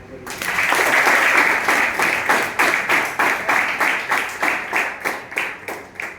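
An audience at a yoga gathering claps for the late yoga teacher D.K. Iyengar. The applause swells quickly and then settles into rhythmic, loud, unison clapping that continues steadily.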